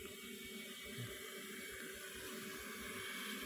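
Water runs steadily from a garden hose onto plants, a constant close hiss and rush with no talking.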